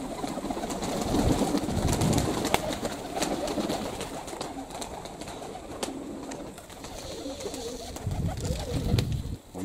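Cochin and Brahma pigeons coo steadily in a dovecote, soft low throaty calls repeating throughout amid faint rustling and background noise.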